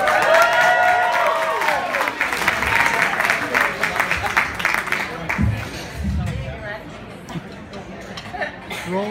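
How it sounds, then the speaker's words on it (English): A wedding audience claps to welcome the best men up for their speech, steady applause of moderate loudness with chatter mixed in, while a voice speaks over the start and the clapping thins toward the end. "Now the next round of applause as we welcome up our best men, Andy and Joey Corey."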